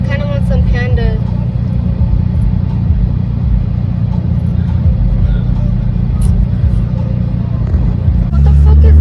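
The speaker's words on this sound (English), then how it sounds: "now we're stuck in this damn traffic" Traffic on a Phoenix road rumbles steadily from inside a car, a loud, low engine and road drone with a brief louder surge near the end, and people talk over it.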